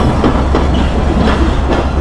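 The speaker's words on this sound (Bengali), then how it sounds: "ফাইনালি এই তো ট্রেন আসলো" A Bangladesh Railway intercity train arrives close by with a loud, steady rumble and rhythmic wheel clatter filling the whole stretch, no voices over it.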